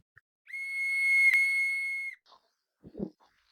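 A naval whistle at the harbour of a Cromarty naval base sounds the still in tribute to a disaster's dead: one steady, piercing tone held for nearly two seconds, followed by faint scattered thumps.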